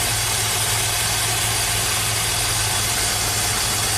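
A Pontiac GTO V8 idles with a cylinder misfire, a loud, close, steady rumble with a dense mechanical hum that continues unbroken throughout.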